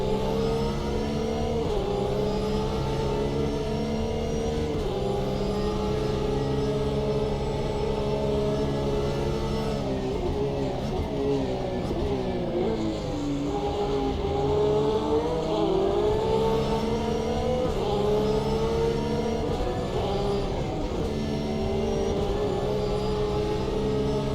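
Race car engines in the Automobilista 2 racing game rev and shift steadily, a continuous layered engine drone that rises and falls through gear changes, moderately loud with no talk.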